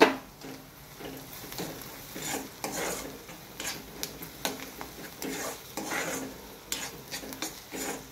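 Chopped fenugreek (methi) greens with turmeric fry in a pan, giving a soft sizzle under repeated scraping and stirring strokes. The bursts of louder stirring recur every second or so, with no voices.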